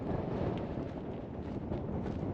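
Steady wind roars against the microphone on an exposed mountain trail on the Tour du Mont Blanc, a constant low rushing noise with no voices.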